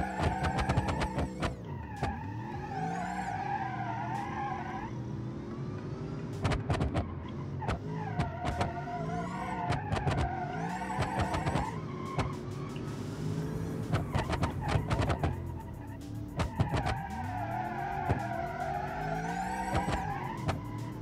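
A minivan lapping a race track with nitrous oxide disabled, its engine revving up and down through gear changes while tires squeal and skid through corners, loud and close for about twenty seconds with no talk.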